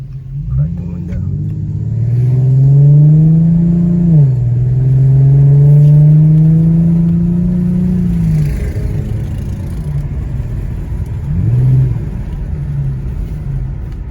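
An Infiniti G37 accelerating in sport mode pulls hard through two rising revs with a deep rumbling exhaust, then settles to a lower idle-like drone; a voice is briefly heard.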